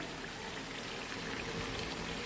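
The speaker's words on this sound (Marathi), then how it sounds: "आता पाणी ओतून घेते" Dense, continuous splashing and gurgling of water being poured into a pot of cooked chicken, close and fairly loud, without pause for a couple of seconds.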